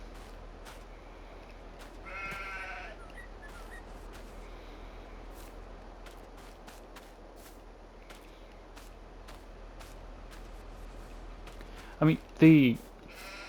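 Sheep bleat in Farming Simulator 22 near a wool pallet: a faint bleat early on, then two louder, close bleats near the end, with someone talking throughout.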